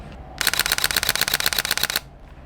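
A rapid burst of Sony ZV-E10 camera shutter clicks at 11 frames per second fires for about a second and a half, sharp and evenly spaced, close up.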